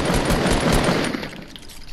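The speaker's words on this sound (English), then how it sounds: "Okay, I'm shooting with my gun!" A minigun in a video game fires a dense, rapid burst of gunfire at close range, then tapers off into quieter rattling.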